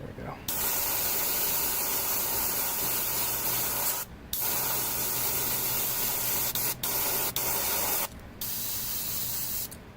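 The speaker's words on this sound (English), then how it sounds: "Get a little bit more pressure through the airbrush." Steady, close hiss of an airbrush spraying paint onto a miniature, held in long continuous bursts with a few brief gaps where the trigger is released.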